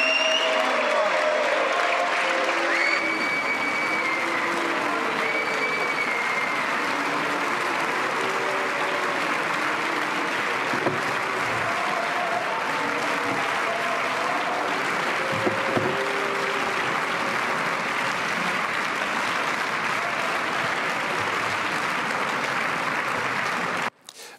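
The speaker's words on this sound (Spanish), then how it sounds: "algunos aplausos, pues lógicamente siempre hay alguna foca que sabe aplaudir, pues le han aplaudido, pero la mayoría del Parlamento Europeo le ha silbado" Large crowd applause and whistling in the European Parliament chamber, sustained for over twenty seconds at a steady, dense level with some murmuring mixed in.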